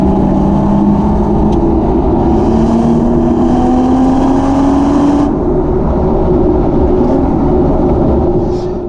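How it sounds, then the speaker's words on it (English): A 2023 Toyota GR Supra with a manual gearbox revs its engine, a loud, close, rising drone that climbs steadily in pitch under a continuous rumble. No one speaks. "you can rev all the way up. There's no rev limiter as well"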